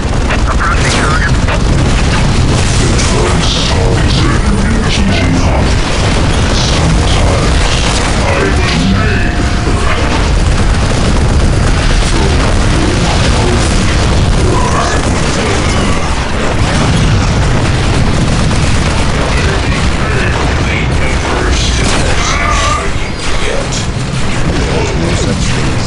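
Dense, loud battle din in Warhammer 40K Dawn of War Soulstorm: constant gunfire, crashes and explosive booms packed together with no break, while game voices speak over the chaos.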